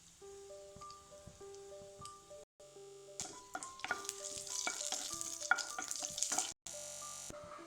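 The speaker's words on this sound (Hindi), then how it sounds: "तेल गरम भेला के बाद आधा चम्मच जीर आ एकटा" Whole cumin seeds and a torn bay leaf hit hot oil for a kofta curry, starting with quiet clinks and then building into a steady, close crackling sizzle that is briefly cut off near the end.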